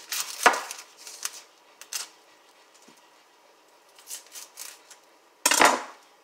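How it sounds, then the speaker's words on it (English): Knife cutting through the ends of a peeled onion on a cutting board: a few sharp chops with sparse, soft taps and board contact sounds between them, near and fairly quiet. "cut these ends off of it"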